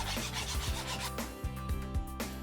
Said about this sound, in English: Cut to size and sand down any rough edges.